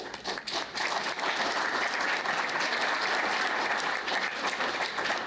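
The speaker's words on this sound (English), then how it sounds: "Please give yourselves a round of applause." Applause from a forum audience of county attorney candidates and attendees, a dense, steady wash of many hands clapping that holds loud and continuous throughout.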